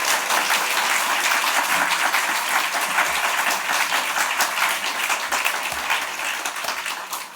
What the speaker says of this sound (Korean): 여러분 큰 박수로 환영하고 축복해 주시면